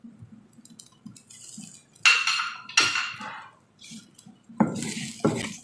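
Qatari beef majboos rice with cinnamon powder and salt stirred in a pot, scraping and clinking utensil strokes in several loud bursts between quiet pauses.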